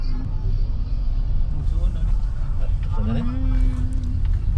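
A vehicle rolls down a mountain road in Bukidnon, giving a constant low engine and road rumble from inside the cabin, with voices talking over it and a brief rising whine midway.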